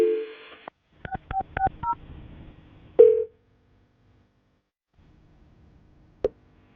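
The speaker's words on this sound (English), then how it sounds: "you ready to make the phone call?" A short telephone dial tone, then a quick run of keypad beeps while dialing a call, one more tone, a stretch of near silence, and a final brief beep.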